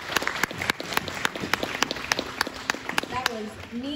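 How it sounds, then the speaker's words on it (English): An audience at a dairy maid pageant claps in a fairly sparse round of applause, with individual claps distinct and voices talking over it. "go ahead and give them a round of applause"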